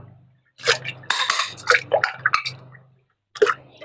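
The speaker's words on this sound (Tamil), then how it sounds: "இந்த ஒரு பார்ட்ஸ் மட்டும் எடுத்துட்டு நீங்கள் தண்ணியில் இந்த மாதிரி வாஷ் பண்ணினா போதும் உங்களுக்கு." A detachable plastic part of a kitchen juicer is rinsed in water, giving close, irregular splashes, drips and light clattering knocks in quick bursts, with a short pause before a final splash.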